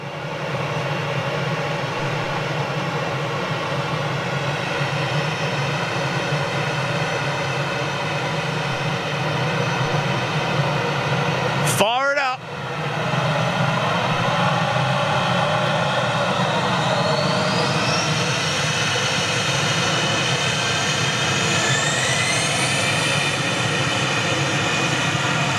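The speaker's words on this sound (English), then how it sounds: "these guys are a beautiful little Swiss A220 just landed" A Swiss Airbus A220 jet that has just landed, a loud, steady engine roar with rising whine tones, broken once by a short gusty buffet before the rumble carries on.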